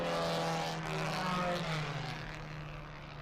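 Race cars, among them a Honda S2000, a BMW M2 and a Morgan, accelerate together at a restart during an SVRA GT sprint race at Road Atlanta, a dense layered engine roar with harmonic whine that holds steady, then eases slightly.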